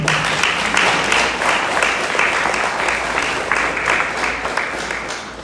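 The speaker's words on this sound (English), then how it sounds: "let's have a round of applause for everyone" A graduation ceremony audience breaks into loud, sustained applause, dense clapping filling the hall steadily for several seconds with no talk over it.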